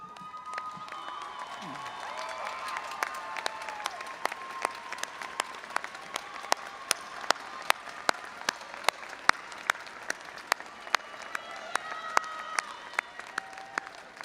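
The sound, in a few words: graduates applauding at commencement ceremony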